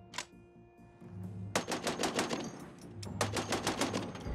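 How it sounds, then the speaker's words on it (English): M2 machine gun test firing at a firing range, with a single shot followed by two rapid bursts of sharp, evenly spaced reports, each burst about a second and a half long, moderately near. "Once the M2 is built, it's taken out to the firing range."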